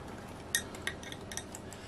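A fork or whisk clicks against a bowl as an egg is beaten with a splash of water, giving a few light, irregular clinks close up over a quiet kitchen background.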